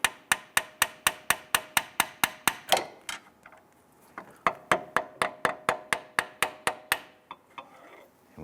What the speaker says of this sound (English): I'm going to go right on the side of the solenoid here, and I'm just going to gently tap that.